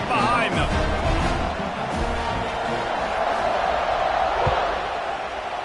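Football stadium crowd roaring in a broad, steady wash just before kickoff, carrying under a commentator's continuous talk.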